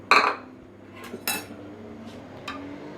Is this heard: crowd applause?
no